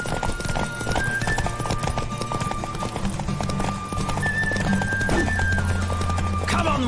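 A horse gallops flat out in a race in The Witcher 3: Wild Hunt, its rapid rhythmic hoofbeats close and continuous, with a whinny breaking through and a game soundtrack underneath.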